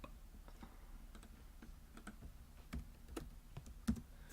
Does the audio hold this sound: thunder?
no